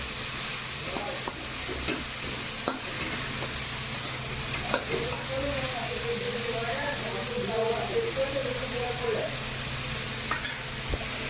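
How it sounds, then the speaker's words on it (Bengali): Onions are stirred and fried in a pan, giving a continuous sizzle broken by scraping stirring strokes, while a person talks over the middle stretch. "এবার পেঁয়াজটা নাড়বো।"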